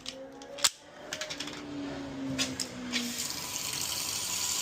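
A newly fitted single-handle faucet with hose runs water into a sink, a steady close rush with a short clatter near the start and a few light knocks as it flows.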